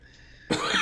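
A single sharp cough bursts out loud and close after a stretch of quiet room tone, filling the last part of the moment with a harsh, noisy blast.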